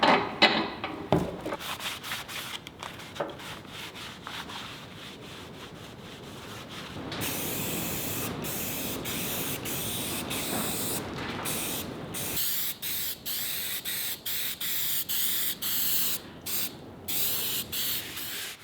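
Spray paint hissing onto freshly welded giant steel jackstands for farm equipment, short bursts and longer sustained sprays with pauses between, close and fairly quiet.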